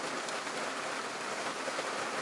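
Heavy rain falls steadily at wetlands where small shorebirds shelter, a dense, even hiss of drops filling the whole stretch with no breaks, soft and continuous.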